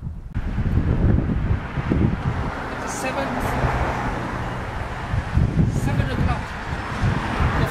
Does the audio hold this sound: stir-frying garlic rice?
no